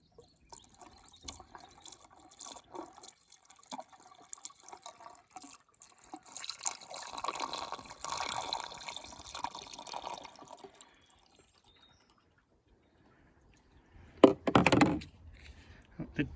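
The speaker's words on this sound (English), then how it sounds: "In goes the flush." Engine flush being poured into the engine of a Renault Clio Mk3 1.5 dCi, with faint trickling and dripping and a louder gurgling splash near the end, set among quiet handling noises.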